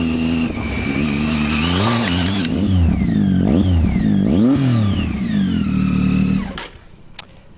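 A Triumph Tiger 800 XC motorcycle with an optional aftermarket silencer revs loudly and close, the engine rising and falling through several sharp throttle blips before dropping to a lower idle.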